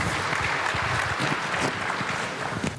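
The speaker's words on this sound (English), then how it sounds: "please, ladies and gentlemen, a round of applause for our panelists" Audience applause for the panelists at a high-level conference dialogue on bamboo and rattan, a dense, steady clapping from a large crowd that fills the whole moment without talk.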